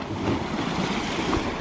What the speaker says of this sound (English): with the waves crashing into the shore